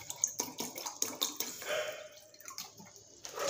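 Water is poured into a container for a homemade golgappa spiced water mixture, giving soft splashing and trickling with small drips, fairly quiet and close, with no talking.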